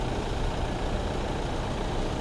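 A 2020 Toyota Fortuner TRD with a 2.8-litre 1GD-FTV diesel engine idles with the hood open, giving a smooth, steady low rumble and clatter heard up close, even and unbroken for a couple of seconds.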